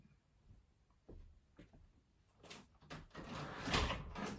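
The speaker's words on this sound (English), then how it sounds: "let me just open the door because I'm absolutely boiling here" A door is opened at home, with a few faint clicks and knocks followed by a swelling rush of outside air and rustling.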